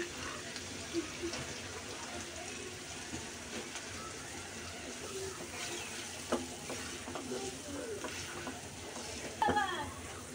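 Soft crackling sizzle of turmeric, garam masala and cumin-coriander powder frying in oil in a pan, with occasional scrapes of stirring, steady and close, plus a brief clatter near the end.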